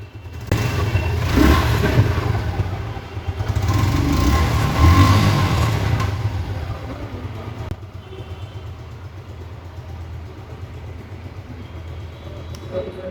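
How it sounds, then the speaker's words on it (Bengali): A second-hand Suzuki Gixxer Monotone motorcycle in near-new condition revs in two strong surges over a low engine rumble, then settles to a quieter steady idle. "ইঞ্জিনের সাউন্ড আপনাদেরকে শোনানো হচ্ছে।"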